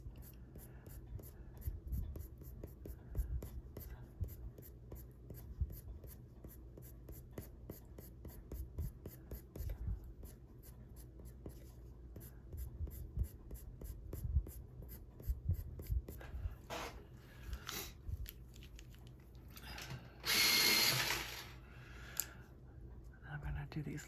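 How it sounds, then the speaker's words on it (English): Prismacolor colored pencil scratching on paper while coloring a tiger page, short soft strokes repeating steadily and close up, with a low murmur beneath and a louder rubbing burst near the end. "I'm turning my pencil, flipping it this way and then this way."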